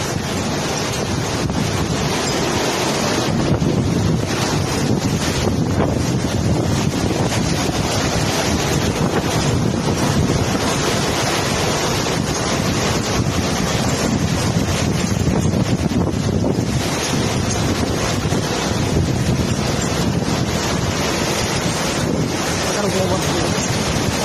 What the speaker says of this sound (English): got about 100 mile an hour wind right now